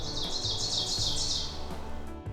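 Birds chirp and tweet in a rapid, repeated series along wooded park trails, fairly close and clear over a low background rumble, with no talking.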